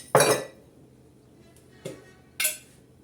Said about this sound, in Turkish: Ondan sonra tuzumuzu atalım. Şöyle bir 3 kaşık atayım.